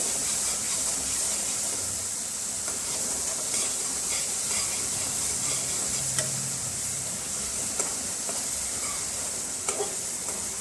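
Spice masala with coriander powder and garam masala stirred and cooked in oil in a pan, a steady close sizzle and hiss with scraping stir strokes throughout, no voices.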